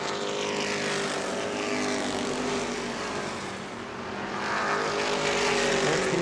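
Stock race car at New Smyrna Speedway sliding loose off a corner during World Series racing, a loud sustained engine roar with several cars blending together, dipping briefly then swelling again as they power out of the turn.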